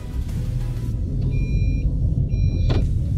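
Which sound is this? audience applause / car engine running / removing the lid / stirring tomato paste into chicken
car engine running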